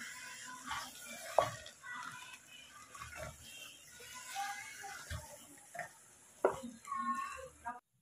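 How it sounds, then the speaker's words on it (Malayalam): Chicken curry masala with ground green chillies being stirred in a pan, giving scattered scrapes and clatters of a utensil against the pan amid soft, wet kitchen background noise. "ഇനി ഇതെല്ലാം കൂടി അങ്ങോട്ട് ഇളക്കാം."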